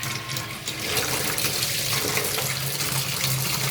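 Hot water runs steadily from a tap into a sink, filling it to soak Yard Machine by MTD mower spindle and deck parts; a continuous, fairly loud splashing rush with no talk.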